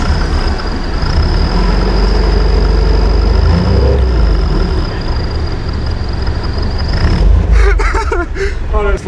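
An MGB sports car drives with a turbo whistle and party horns fitted in its exhaust, giving a loud steady engine drone with a sustained high whistle tone that holds throughout, then cuts out near the end amid rattling.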